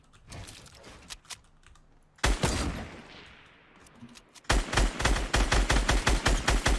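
Sniper rifle shots in Fortnite crack out in sharp bursts, a few scattered reports followed by a sudden loud blast and a dense rapid volley near the end, with no talk.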